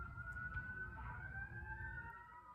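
Emergency vehicle sirens wail steadily outside, a sustained rising and falling tone that carries on throughout over a low rumble of traffic, moderately distant and loud, with no talk over it.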